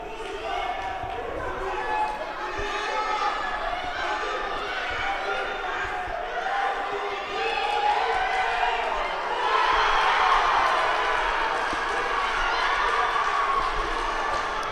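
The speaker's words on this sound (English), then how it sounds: "You hear the big cheer in the background." Arena crowd at a junior world judo championship in team competition, sustained cheering and roar swelling loud, with distant thuds and a commentator's voice underneath.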